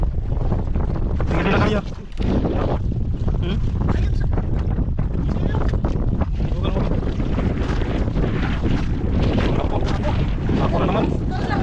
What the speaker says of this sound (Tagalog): Grabe, naglakas na lalo yung hangin ah.